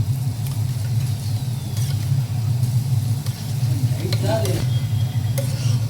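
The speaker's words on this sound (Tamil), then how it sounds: "நம்மளே பிணைஞ்சு விட்டுருவோம் தயிரை ஊற்றி" Close stirring and scraping of curd into chopped vegetables in a bowl, with soft wet clicks, over a steady low hum throughout.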